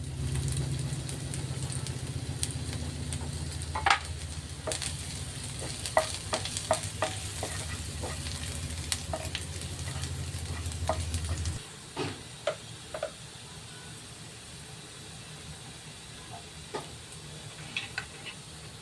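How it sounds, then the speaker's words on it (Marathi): Garlic and ginger fry in oil in a pan with a close, crackling sizzle and sharp stirring clicks; the sizzle drops away partway through, leaving scattered taps and scrapes. "आता मी तेल घेतलंय, त्याच्यामध्ये आपण लसूण घालून घेऊया आणि त्याचसोबत अद्रक पण घालून घ्यायचं"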